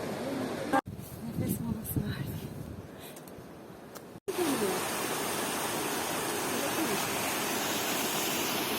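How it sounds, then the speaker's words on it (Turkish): Rushing waterfall passed on a rainy highland hike, a steady broadband roar that drops briefly to quieter rain-patter and footsteps before swelling back close and loud. "Bir adet şelale geçiyoruz şu an."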